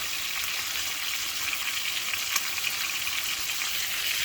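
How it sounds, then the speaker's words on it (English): A chuck roast searing in a hot pan, heard as a steady, even hiss and crackle of frying fat, moderately loud and continuous with small pops, without talk. "Now for the bigger the roast, you may have to sear these sides a little longer"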